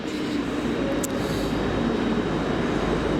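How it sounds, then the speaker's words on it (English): Steady low rumble of a Class 185 Desiro diesel train running, with constant broadband noise heard from inside the carriage. "But our train 2027 is Diesel Desiro 185 once again."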